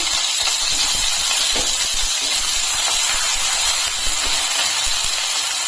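Chopped onions dropped into hot oil in a home kitchen while making chilli chicken give a loud, steady broadband sizzle that lasts throughout, close and unbroken.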